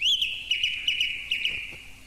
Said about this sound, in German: Ein Vogel. Ich höre Vögel.